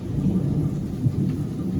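Thunder during a lightning storm gives a deep, continuous low rumble, loud and close, with rain hissing faintly alongside and no voices over the short stretch.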